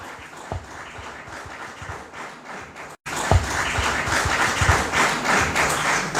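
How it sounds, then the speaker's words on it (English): Audience in a hall gives a round of applause after a speech at a football club event, a dense steady clapping that grows louder midway, with a few thumps mixed in. "A bigger round of applause,"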